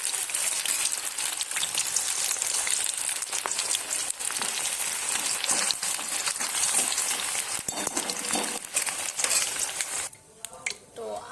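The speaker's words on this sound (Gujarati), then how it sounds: "આવી રીતે બધા જ આપણે બટેટાને ફ્રાય કરી લઈશું" Potatoes frying in hot oil in a pan, a dense continuous crackling sizzle like heavy rain that holds loud and even throughout before dropping away at the end.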